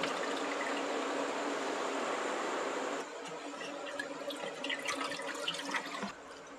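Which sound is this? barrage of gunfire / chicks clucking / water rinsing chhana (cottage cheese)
water rinsing chhana (cottage cheese)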